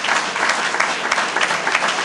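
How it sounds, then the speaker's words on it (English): Audience applause at a school district event welcoming a new schools CEO, a loud, dense, continuous roar of many hands clapping at once. "Let's give him a round of applause for that work there."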